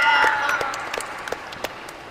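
A classroom of students in a micro-teaching physical education lesson claps briefly, fading quickly into a few scattered claps.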